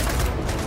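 Rapid gunfire from the video game Gears of War 4, a loud sustained burst of overlapping automatic shots filling the space with dense crackling booms.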